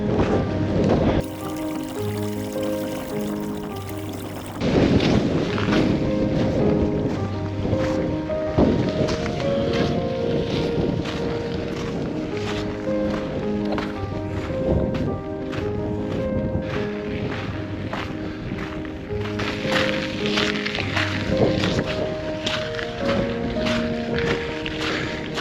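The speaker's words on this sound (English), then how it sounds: "Way too windy to drone up here." Strong wind buffets the microphone on an exposed Icelandic mountain path, roaring and gusting unevenly throughout, loud and close, with bursts of rough rumble.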